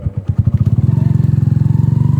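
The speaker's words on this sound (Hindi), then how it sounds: "अब हम इधर करेंगे बाइक को पार्क" Motorcycle riding near Rohtas Fort in Jhelum, Pakistan, a close, loud engine with a fast regular thumping idle that settles into an even throbbing rhythm.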